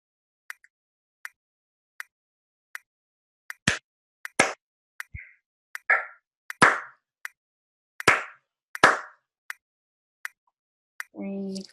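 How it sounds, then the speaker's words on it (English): A series of sharp hand claps, evenly spaced at first and then louder and more resonant, some ringing briefly, with a short burst of other sound at the end; demonstration during an instrument-teaching webinar on solos. "now I can start clapping"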